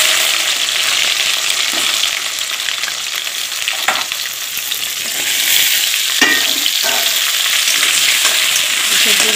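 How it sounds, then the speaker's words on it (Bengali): Vegetables frying in hot oil make a loud, continuous close sizzle, with occasional soft stirring knocks and no voices. "সবজিগুলো 2-3 মিনিট ভালো করে ভেজে নেব।"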